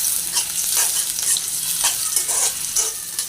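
Sliced onion fries in a pan with a close, steady crackling sizzle, broken by quick scraping stirs every half second or so, with no voices.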